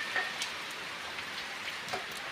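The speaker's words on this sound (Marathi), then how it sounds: "चांगला पाऊस आलाय." Steady rain pours down on a farm after the bullocks are brought home, a dense, even hiss with a few louder drop splashes and no voices.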